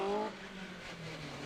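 Rally cars race around the Cadwell Park circuit, with a brief engine note at the start fading into a broad, steady roar of motors and track noise heard from a distance.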